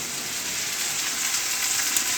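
Okra frying in a pan gives off a steady, soft sizzle and crackle of hot oil that carries on evenly throughout, heard close up and with no voices.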